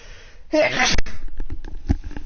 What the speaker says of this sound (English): I think I've completed my sneezing fit.